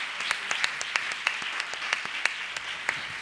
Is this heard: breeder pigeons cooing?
no